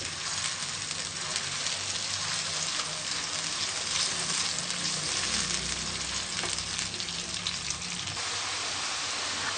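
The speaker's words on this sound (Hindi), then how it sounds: "दो से 3 मिनट हम इसको फ्राई करेंगे।" Kofta for a Pakistani kofta curry fry steadily in a pan, a continuous close crackling sizzle at moderate level with no talk.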